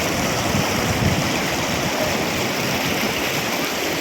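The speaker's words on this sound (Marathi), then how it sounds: "तिथे पाणी किती आले बघा आपल्या नदीला" Loud, continuous roar of a flooded river rushing, heavy and turbulent throughout with no pauses and no voices.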